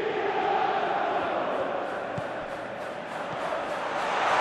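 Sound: football crowd chanting in PES video game

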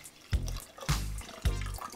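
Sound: pouring cold drinking water into cold borscht

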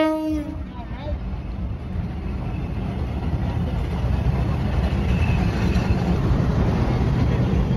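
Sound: train arriving

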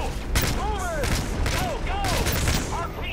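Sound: gunfire in Call of Duty: Modern Warfare 3 video game

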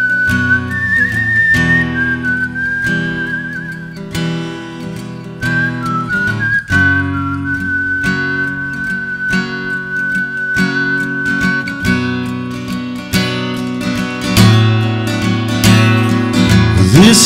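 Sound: whistling into a microphone

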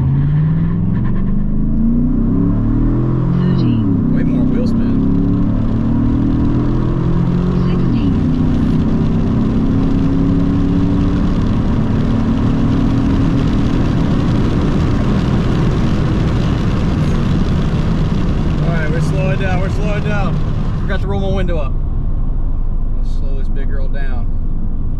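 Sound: regular cab pickup truck accelerating from a stop

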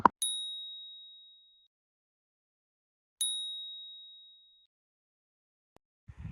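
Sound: metal detector signal tone

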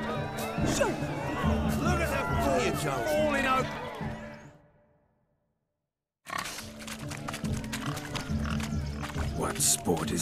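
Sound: pigs oinking in video game The Witcher 3

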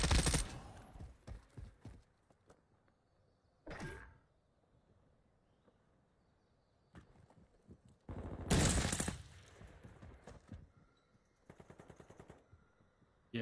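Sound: light machine gun (LMG) fire in a video game

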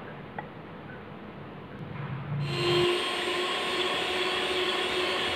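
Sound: mixer mixing cupcake batter

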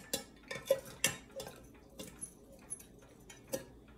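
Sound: stirring citrus iced tea

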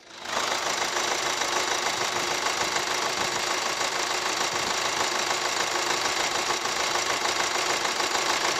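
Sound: diesel SUV engine idling

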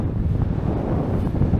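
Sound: wind blowing on a cloudy, windy morning

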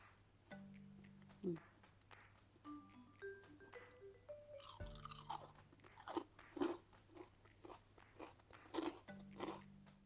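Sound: crunchy chewing of deep-fried banana fritter

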